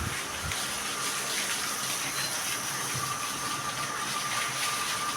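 Water gushes continuously while farm livestock such as goats are being bathed: a strong, steady rushing stream that holds an even level from start to finish, close by and with no talking.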